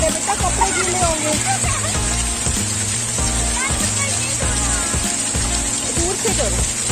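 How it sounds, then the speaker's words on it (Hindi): A fountain inside a Hamleys toy store splashes and sloshes continuously, a bright watery patter mixed with music and someone talking to a child. "साबू देखो पीछे फाउंटेन के साथ खेल रही है"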